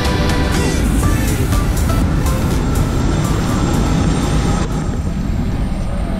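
Airliner cabin during a holiday flight to Majorca, a loud, constant broadband roar of the aeroplane engines and rushing air filling the whole stretch without talk.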